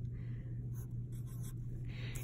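A pen writes a couple of words on paper, making light scratchy strokes in short bursts over a steady low hum, with no talking.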